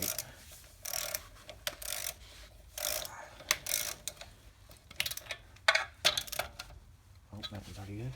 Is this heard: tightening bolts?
yes